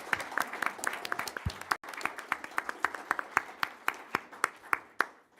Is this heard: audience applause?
yes